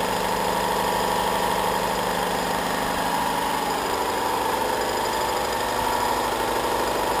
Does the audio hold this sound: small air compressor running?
yes